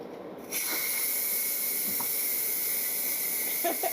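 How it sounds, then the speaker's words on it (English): Steam hissing steadily from an electric cooker during canning, starting abruptly and continuing as a loud, even broadband hiss with faint clicks in the background. "it always runs away when that steam starts going off"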